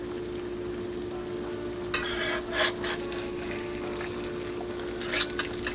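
Eggs fry in hot grease in a cast iron skillet with a soft, continuous sizzle over a low hum, broken by a few brief scraping and spattering bursts.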